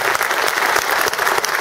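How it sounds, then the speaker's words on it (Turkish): Audience applause fills a political event with an AK Party member of parliament in Denizli: a dense, steady wash of many hands clapping, continuous and fairly loud throughout, with no voices standing out. "Onun için şöyle güzel bir, büyük bir alkış rica ediyorum."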